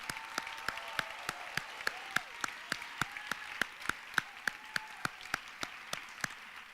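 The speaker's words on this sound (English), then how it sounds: "Please give them all a round of applause." An audience applauds the Do Good Challenge team members at a university public policy finals event, with steady rhythmic claps at a moderate level and no talking over them.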